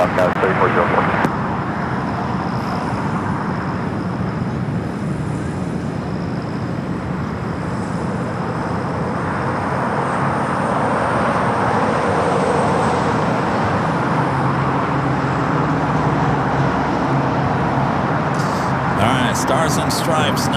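A jet airliner takes off from runway 25 Right at Los Angeles International Airport (LAX), a steady, broad engine roar holding for about twenty seconds with voices talking over it.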